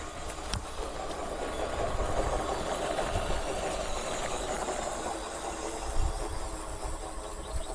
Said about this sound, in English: Perfect speed on this 370 motor and gearbox, perfect for that scale speed for this Toyota.